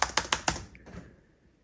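A computer keyboard gives four crisp, evenly spaced keystroke clicks up close, followed by a couple of fainter taps that trail off into quiet.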